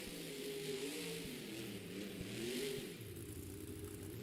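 A loud monster truck engine roars and revs steadily in a Monster Jam stadium show in Anaheim, its pitch wavering and then easing off partway through, with no talk.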